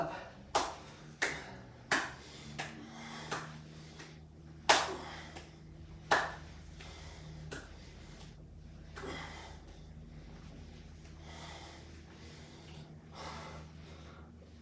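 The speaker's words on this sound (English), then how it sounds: "One leg up, one leg just off the ground, clap, clap, go." Sharp single hand claps during a follow-along workout exercise, about eight spaced claps in the first six seconds, close and fairly faint, followed by quieter movement and breathing with no clear claps.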